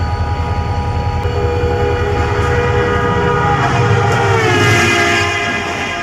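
A diesel-hauled passenger train, the Millat Express with a GU40 locomotive, approaches Jhimpir Railway Station loudly, engine droning and wheels rumbling, with a sustained horn blast rising over the noise.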